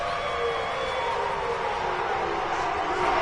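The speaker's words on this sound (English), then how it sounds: "The crowd getting into it as we come up on a big 3rd down." Steady wash of stadium crowd noise rising ahead of a big third down in a late fourth-quarter 49ers versus Bears American football video game, a continuous, fairly loud roar with no clear bursts of cheering.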